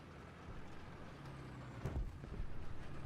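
Vehicle engine in the War Thunder video game, a steady low rumbling drone that holds throughout, with a brief heavier thump partway through and a slight swell toward the end.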